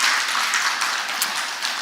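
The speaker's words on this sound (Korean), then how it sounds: "박수 좀 한번 해요." Congregation applauding at a Saturday dawn revival church service, a dense wash of many hands clapping at once, loud and steady throughout the short burst.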